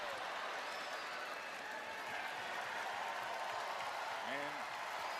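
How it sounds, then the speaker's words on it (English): A WWE wrestling arena crowd roars during a Bianca Belair match, a faint, distant, steady wash of cheering and applause that lasts throughout, with a brief voice near the end. "And getting the roar of this crowd."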